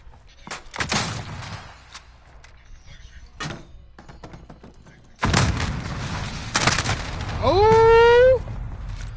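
Pistol fire and combat in the video game Call of Duty Warzone, with several sharp close shots and thumps, a loud burst of dense noise about halfway through, and a warbling electronic tone near the end, set against a player's voice.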